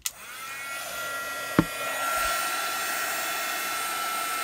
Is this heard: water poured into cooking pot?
no